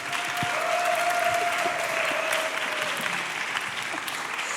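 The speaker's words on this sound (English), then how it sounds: "Let's applaud again for Zuzka." Steady, loud applause from a conference audience fills the whole stretch, with a brief high tone running beneath the clapping.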